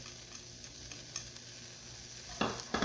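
Garlic and ginger fry in a pan with a faint, steady sizzle, broken by brief stirring scrapes near the end.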